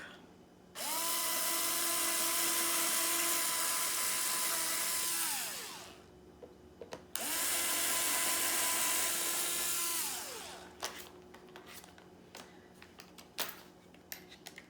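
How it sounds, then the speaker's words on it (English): A small electric drill pre-drilling holes in a frame whines at high speed in two long runs, each winding down, followed by scattered clicks and light tapping. "I'm pre-drilling and I've taped off so that I don't pre-drill too deep."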